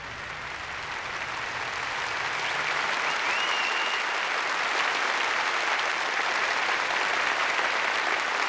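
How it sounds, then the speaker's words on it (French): Thunderous, dense applause from an audience at a magic show in a film, a steady roar of many hands clapping at full, even loudness throughout. "Le film débute par un spectacle de magie dont le tour le plus impressionnant est que ce tonnerre d'applaudissements"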